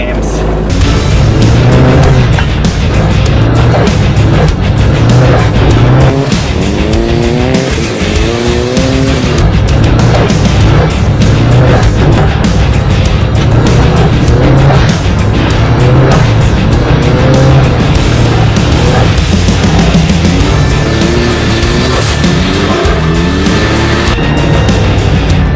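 Car driving laps with a dash camera system running, engine drone loud and continuous throughout, tire squeal and skidding breaking through at times, with speech-like voices mixed in.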